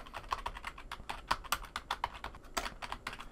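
Quiet, rapid keystrokes on a computer keyboard as a file name is typed, irregular clusters of light clicks with short pauses and no talking.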